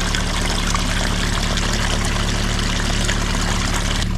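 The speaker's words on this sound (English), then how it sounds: "there's a lot of other water running down from all the snow runoff that's coming into this ditch, but there's still a lot of water coming down through those pipes also" Snow runoff water rushes steadily through drainage pipes into a ditch on a farm, a continuous broadband pouring roar that holds an even level throughout with no voices.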